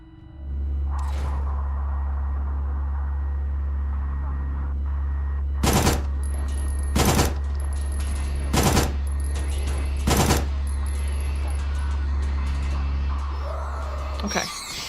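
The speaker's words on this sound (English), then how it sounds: "Might have to use a machine gun here." Machine gun fire in the video game Signalis, four loud, short bursts spaced about a second apart over a deep, constant low hum, no talk.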